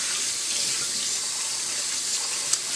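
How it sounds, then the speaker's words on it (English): Steady rushing cold tap water runs over rice in a fine mesh strainer, constant and fairly close, with a faint clink near the end and no voices. "Let's rinse and drain the rice with cold water using a fine mesh"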